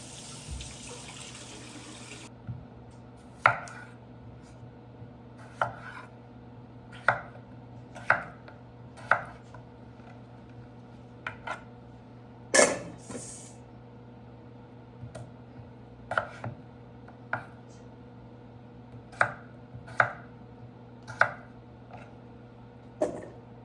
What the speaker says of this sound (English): I'm going to chop my potatoes up